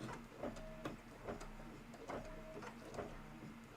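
An embroidery sewing machine stitches a holly design in a steady rhythmic pattern of needle strikes with a mechanical whir, close up and fairly quiet, with no talk.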